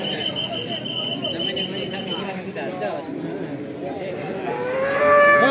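Cattle mooing at a busy livestock market in Tuban, with several sustained lowing calls heard amid crowd noise and traders talking nearby, growing louder toward the end.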